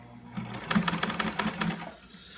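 A sewing machine stitches fabric into canvas for a ribbed neck gasket, running in a fast rattling burst of rapid needle strikes over a low motor hum, close and alone.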